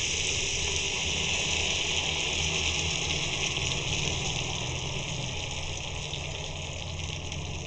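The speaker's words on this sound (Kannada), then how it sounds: "ಒಂದು 2 ಗ್ಲಾಸ್ ಅಷ್ಟು ನೀರು ಹಾಕ್ತಾಯಿದ್ದೀನಿ." About two glasses of water are poured into a pan of cooked tomato for two packets of Maggi masala noodles, making a steady, continuous close gushing wash with no break and no voices.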